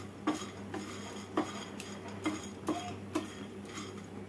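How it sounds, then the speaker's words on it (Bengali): Cinnamon, black pepper, half a nutmeg and eight small cardamom pods are dry roasted together in a pan, with a spoon stirring and clinking against the metal in soft, regular taps over a quiet background. "সবগুলোকে একসাথে ড্রাই রোস্ট করে নেব।"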